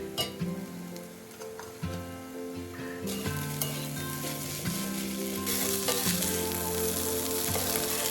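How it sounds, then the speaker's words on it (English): Spinach, fried egg and rice sizzle in a pan while being stirred and mixed, a constant loud frying hiss broken by scraping and tossing sounds, growing brighter and fuller toward the end. "Once the spinach is fried well, I will add the fried egg and the rice to it and mix everything really well."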